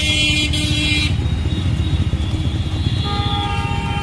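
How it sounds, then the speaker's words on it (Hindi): Cars and taxis sit jammed on a crowded bridge, giving a steady close rumble of idling engines overlaid with sustained horn blares that start and stop. "बहुत ज़्यादा भीड़ है दोस्तों यहाँ पास जाम भी लग रहा है"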